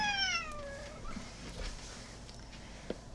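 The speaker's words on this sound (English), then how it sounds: "Let me just move this cat." A cat meows in a drawn-out, falling call at the start while being moved indoors, followed by faint shuffling and a soft bump, with no talking.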